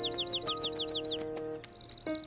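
A small cartoon bird chirps in quick repeated bright tweets, first a rising run of short chirps, then a denser trill after a brief pause, all over a soft animated-show background with no talk.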